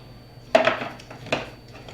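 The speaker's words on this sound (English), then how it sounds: "I'm going in with a 28-ounce can of crushed tomatoes" A 28-ounce can of crushed tomatoes is emptied into a pan for a quick pizza sauce, with two close metallic clanks of can against cookware in a quiet kitchen.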